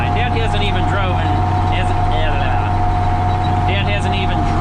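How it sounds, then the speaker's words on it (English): Ford Big 6 tractor engine drones steadily while driving, a loud constant low rumble with someone talking over it throughout. "I'm enjoying driving this tractor too much"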